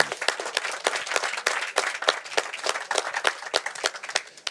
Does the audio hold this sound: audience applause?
yes